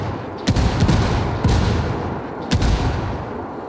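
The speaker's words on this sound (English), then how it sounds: "This is a fully upgraded mortar barrage." A fully upgraded mortar barrage in Ghost Recon: Wildlands, with several heavy booming impacts in an uneven sequence of about four blasts, each rumbling loudly and trailing into a low, sustained roar.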